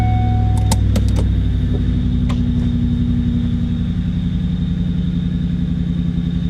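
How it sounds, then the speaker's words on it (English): A 1997 Ford Mustang GT engine idles with a steady low rumble, a thin high whistle from the mass airflow sensor running through it and a few brief clicks early on. "what you're hearing is the whistling of the mass airflow sensor"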